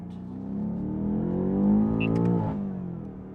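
A BMW M8 Gran Coupe with a Valvetronic Designs valved exhaust and unrestricted midsection revs up with a deep rising engine note, swelling and easing as the pitch climbs, followed by brief crackles near the end.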